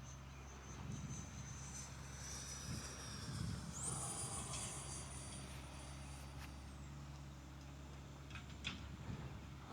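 A small 3D printed Fan Cat RC airplane on its maiden flight whines steadily at a distance under a constant low ambient rumble, with a faint rising pitch sweep midway and no talking.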